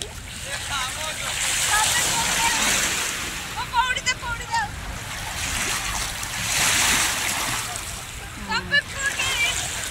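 Broad washes of surf roll in and recede near a crowded Cyprus beach, with people's voices and chatter carrying over the steady roar of the water.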